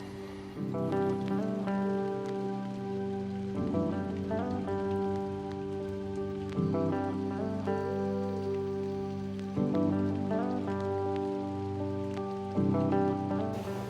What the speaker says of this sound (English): it's rainy, gloomy, sad outside